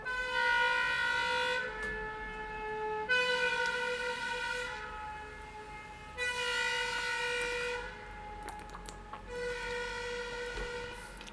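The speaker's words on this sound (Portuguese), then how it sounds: "Tá passando um carro do Corpo de Bombeiros" A fire brigade truck passes nearby with its siren blaring in long steady wailing tones, several sustained blasts that fade slightly as it moves away.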